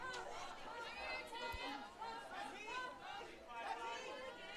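Crowd chatter fills a softball ballpark during a game, a steady murmur of many overlapping voices close around, with no single voice standing out.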